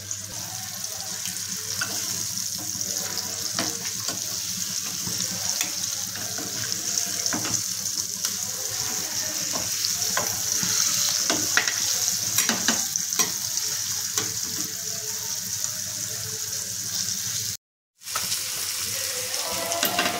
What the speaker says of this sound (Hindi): ते आपल्याला छान अल्टी पलटी करून क्रंची करून ते तळून घ्यायचे